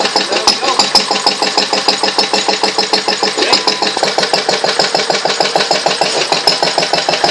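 A Lister D type stationary engine is cranked by hand, giving a loud, close, steady rapid chugging beat that runs evenly throughout with no voices.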